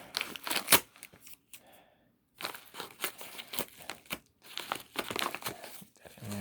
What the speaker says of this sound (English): And we're going to just rip that open there.